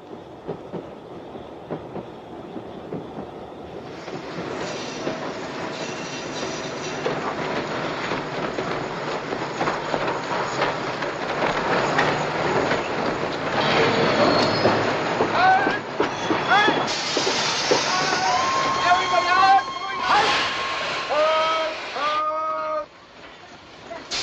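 A train rumbles along the track with steady clickety-clack and screeching wheel squeals building toward the end, loud and close, with occasional voices beneath the rolling noise.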